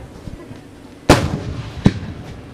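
Fireworks burst at a summer fireworks festival in Tottori: a sharp, loud boom, then a second smaller crack under a second later, over a low crowd murmur.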